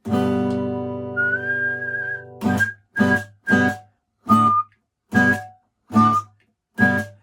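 A long held whistled tone, then a series of short whistled notes repeated one after another with brief gaps, close and clear.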